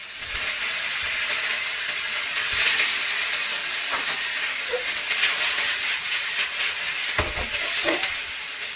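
Shredded pork fries with spicy peppers in a hot wok, giving a steady hissing sizzle broken by several scraping spatula strokes and clanks, close and loud.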